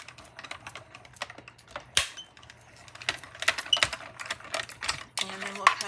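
A die cutting machine crunches paper through a Stampin' Up! die, giving a fast, close stream of dense clicking and ratcheting with a brief louder thump partway through.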